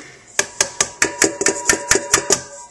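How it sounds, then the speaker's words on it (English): Cookie mixture stirred and folded by hand for holiday cookies, giving a steady series of about eleven sharp clacks and scrapes of a spoon against the bowl, close and fairly loud, with no talking. "And I'll just fold it into the mixture, stir it in basically, by hand"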